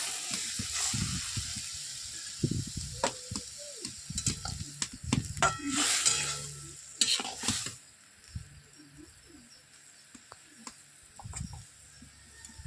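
Puti fish curry sizzling in a pan in a village kitchen as ginger garlic paste and a little water are stirred in, with intermittent scraping and clinks of the spoon over a steady low frying hiss.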